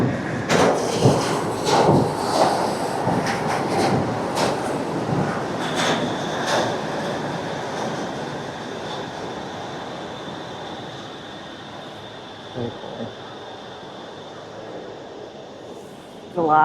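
A train rolls into a small station in Kamakura, Japan, its steady rumble and rail noise fading gradually over many seconds, with a faint high whine and brief clunks near the end.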